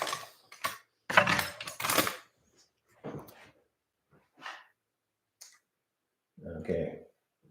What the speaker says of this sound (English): Hear me dig through my tools.